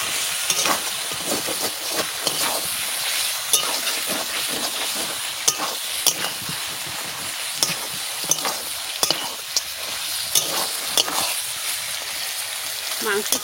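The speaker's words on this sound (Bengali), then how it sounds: "মাংস কষাইছি, দেখো" Goat meat frying in plenty of oil, a loud continuous sizzle and hiss with repeated scraping stirs, and a voice talking over it at times.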